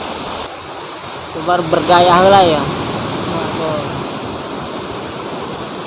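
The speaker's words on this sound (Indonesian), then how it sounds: "Wih, ombaknya mantap." Ocean waves at Carita beach wash in as a steady broadband roar of surf, with wind noise on the microphone and a person talking briefly over it partway through.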